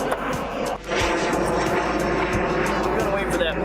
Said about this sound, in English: I'm gonna wait for that plane to go away.